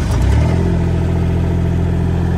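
A mini excavator's diesel engine runs steadily at close range, a dense low mechanical drone with a faint clatter and no voices over it.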